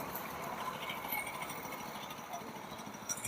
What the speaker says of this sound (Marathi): तर आता हे कळवण नाशिकला आपलं मशीन चाललेलं आहे.